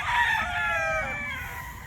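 A Boston Black gamefowl stag crows once, close and loud, a single drawn-out cock-a-doodle-doo that fades toward the end.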